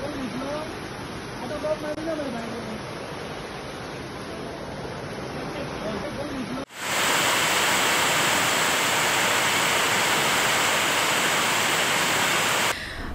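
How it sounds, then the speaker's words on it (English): Heavy monsoon rain and rushing floodwater in Goa, a dense, steady roar that starts abruptly partway through and holds loud and unbroken, after a quieter stretch of softer wet ambience. "Heavy rains and flooding have been reported from many parts of Goa today."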